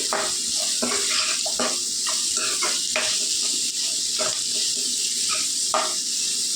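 Carrots for upma frying in a pan, a continuous close sizzle broken by repeated scraping stirs at a steady pace.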